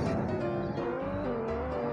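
Police-chase video game audio with a car driving hard and tires squealing, a dense continuous roar with a squealing tone running steadily and loudly throughout.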